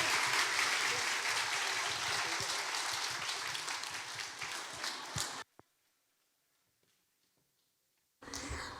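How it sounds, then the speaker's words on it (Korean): Loud applause from a concert audience fills the first five seconds at a Thanksgiving music festival, then cuts off abruptly into near silence before clapping briefly resumes at the end. "예, 다시 한번 박수를 한번 주시고."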